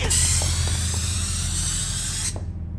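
A strong, steady spray hisses continuously for about two seconds, then cuts off abruptly, leaving a low hum.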